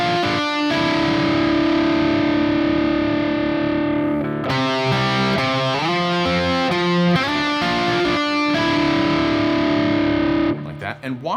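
Distorted electric guitar plays a riff, fretted notes ringing against each other in cross-string dissonance, loud and sustained with effects throughout, ending abruptly.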